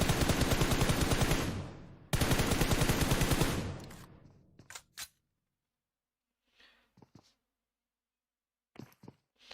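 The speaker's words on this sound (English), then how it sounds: "putting a load of shots over into S6" Dense rapid gunfire from an esports shooter video game scrim fills the first four seconds as loud sustained bursts, then cuts to silence broken by a few sparse, quieter shots and clicks.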